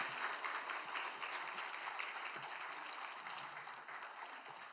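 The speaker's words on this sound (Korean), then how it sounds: "선교사님, 우리 박수로 한번 맞이하겠습니다" Sustained applause from a church congregation welcoming a missionary, a dense, even wash of many hands clapping together, moderately distant and steady throughout with a slight fade toward the end.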